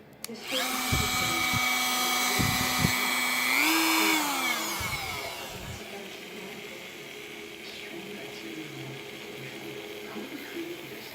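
A Dremel rotary tool with cheap polishing rouge on its wheel works a forged knife, whining loudly and close with several strong harmonic tones. Its pitch rises briefly, then winds down and fades into a quiet room.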